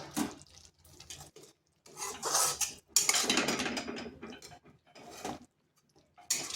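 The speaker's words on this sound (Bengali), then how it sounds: "মশলাটা একটু ভালোভাবে কষে নিতে হবে, কিন্তু এটা অনবরত নাড়তে হবে" Spice masala with cashews being stirred in a pan for a potato and pointed gourd curry, with irregular scraping and clinking of a spoon against metal, some bursts louder, separated by short quiet gaps.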